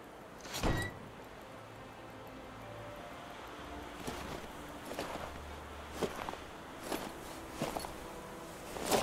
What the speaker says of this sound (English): Oh, Miller got the car again.